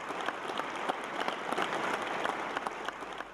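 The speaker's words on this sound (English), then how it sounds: "can we give Christel House and the people that have built it, but a proper round of applause" Enthusiastic applause from an audience at Christel House in South Africa, many hands clapping in a thick continuous roar with a few sharper individual claps standing out.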